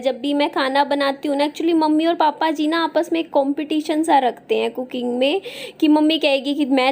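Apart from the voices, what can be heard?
No distinct noise like a dog, phone or traffic.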